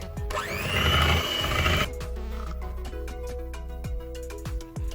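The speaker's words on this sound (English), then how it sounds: "I'm going to whisk this till it's thick" Double cream being whisked for homemade vanilla ice cream. A loud motorised whir runs for under two seconds and then cuts out, followed by scattered knocks and clatter nearby.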